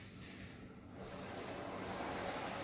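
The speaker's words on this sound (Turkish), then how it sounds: "Tatlandırıcıyla tekrar suyumuzu açıyoruz." Water rushes through a newly installed water filter system with its softener, a steady close hiss and gush that grows slightly louder and fuller, with no voices.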